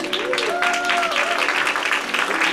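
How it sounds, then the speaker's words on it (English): An audience at a live-streamed NC State talk applauds, a steady dense patter of clapping throughout, with a voice briefly audible over it. "Let's give a round of applause for Cynthia."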